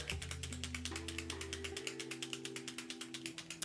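A paint marker with a mixing ball inside is shaken with its cap on, giving a fast, steady rattle of sharp clicks repeating evenly for several seconds, close and fairly quiet, with a low hum fading out early on.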